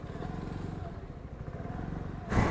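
A Yamaha Fascino scooter idles with a low, quiet putter close by, its engine note rising briefly as it pulls away at the end.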